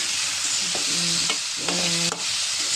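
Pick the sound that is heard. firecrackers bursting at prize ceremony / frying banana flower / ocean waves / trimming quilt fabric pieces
frying banana flower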